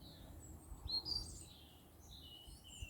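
A blackbird sings a few soft, whistled phrases at a distance over a low, steady background rumble in a graveyard.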